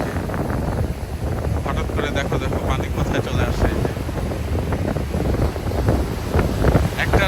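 Strong wind gusts across the beach at Cox's Bazar, buffeting the microphone in a continuous, rough roar with surf behind it, while a person talks over it.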